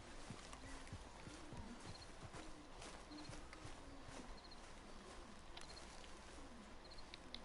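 Horse hooves clip-clop steadily in the video game Red Dead Redemption, giving an even rhythm of quiet hoofbeats over a low ambient bed with faint bird-like chirps.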